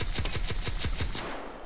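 Rapid full-auto bursts from an AA-12 shotgun firing buckshot in a VR game, about a dozen loud evenly spaced blasts in a quick rhythm, then the fire stops short with a brief thump at the end.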